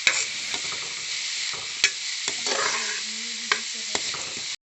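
Chowmein seasoned with salt and turmeric sizzles in a pan as it is stirred, a soft steady frying hiss broken by sharp scraping clinks of the utensil at irregular intervals.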